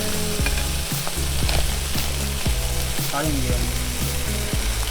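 Thin Japanese yakiniku wagyu beef slices sizzle in a hot pan, a steady close-up crackle with faint utensil taps throughout, and a voice speaks briefly over the frying.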